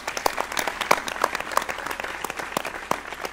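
An audience at a televised Malayalam stage program bursts into warm applause, a dense, steady clatter of many hands clapping for several seconds, near and fairly loud with no voices over it.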